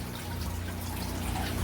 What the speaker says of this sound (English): I will fill that barrel up.